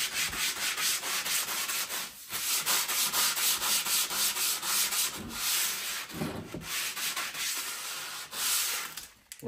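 150-grit sandpaper rubs rhythmically against a juniper wood bow in quick, continuous back-and-forth strokes, close and fairly loud, with a few short pauses.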